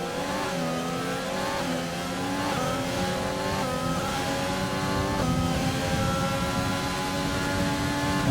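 Several racing cars in an F1 video game at the Chinese circuit scream past with high engine whines rising and shifting through gears, a dense continuous roar of overlapping engines.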